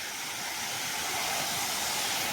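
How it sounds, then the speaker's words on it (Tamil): Steady rushing hiss of a freshwater stream running over a slipway where small fish and eels live, continuous and fairly close with no voices. "தண்ணி ஒடியாருதில்ல"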